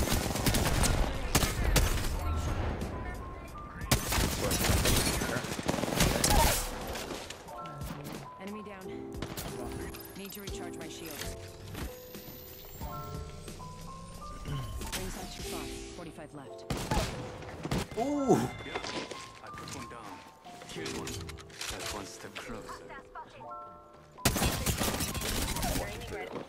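Rapid automatic gunfire from a shooter video game crackles in dense bursts with quieter gaps between, overlaid by game voice callouts and talk.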